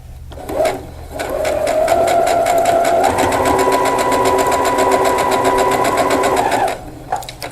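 A sewing machine runs steadily for about six seconds while stitching quarter-inch seams on a diamond-pattern table runner. The buzzing whir is close and loud, with no talking.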